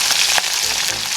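Espada fish frying hard over high heat, a loud, continuous hissing sizzle heard close up in a short burst, alone without voices.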